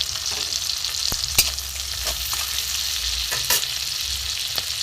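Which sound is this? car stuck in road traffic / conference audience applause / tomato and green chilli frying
tomato and green chilli frying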